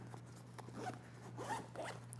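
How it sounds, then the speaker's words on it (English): A zipper on an HRT RAC military plate carrier is pulled to close an assembly back into place, a close, soft, scratchy run of zipping over a low steady hum. "you can just zip that assembly back in"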